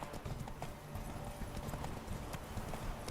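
Roach the horse galloping in The Witcher 3, a steady rapid clip-clop of hooves under faint background game sound, continuous and fairly quiet throughout.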